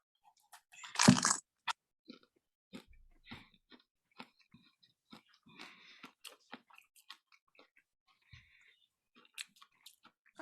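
A crunchy Michael Myers cookie is bitten with one loud, sharp crunch near the start, followed by a long run of quieter, irregular close chewing crackles and clicks.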